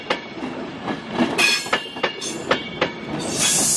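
Class 390 unit 390138 runs through Crewe station bound for Manchester Piccadilly, with a loud, close rhythmic clatter of wheels over rail joints, some metallic squeal and a rising rush of passing carriages.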